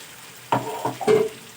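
Spice paste hits a pan of fried onion and tomato, giving short bursts of sizzling and scraping stirs, three quick close-up strokes against a quiet background.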